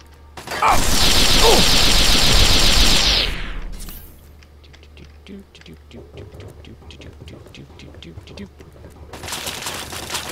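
Rapid automatic gunfire from Fallout 3 bursts loudly for a few seconds, then gives way to quieter mechanical clicks and scattered game sounds before another loud burst starts at the end.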